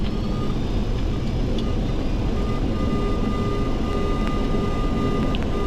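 A Boeing 737-200's thrust reversers roar steadily during a landing on a gravel strip at an Arctic gold mine, a loud continuous broadband rumble heard from inside the aircraft.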